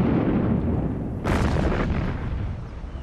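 Distant massed artillery of cannons and mortars firing together across a front, a broad rumbling boom swelling suddenly after a second and rolling on as a dense, continuous barrage.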